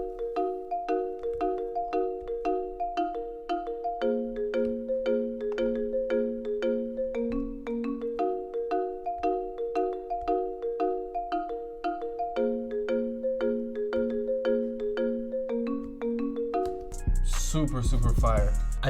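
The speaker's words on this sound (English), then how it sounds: "I laid down the same chords, but just this time arpeggiated" Arpeggiated chords played in an FL Studio beat, a steady stream of bright, evenly spaced synth notes cycling through a chord progression, ending in a sudden noisy burst.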